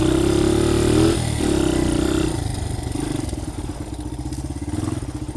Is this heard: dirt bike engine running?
yes